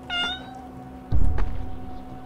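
Cat in the video game ShadowSide gives a short, high, tonal meow near the start, followed by a soft thump and faint background hum.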